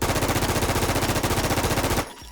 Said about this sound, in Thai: อ่ะยิงไปหนึ่งร้อยนัดครับ